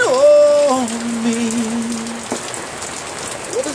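Steady rain patters down on surfaces as a constant hiss. A long tonal sweep rings out over it at the start, and a brief knock comes near the middle.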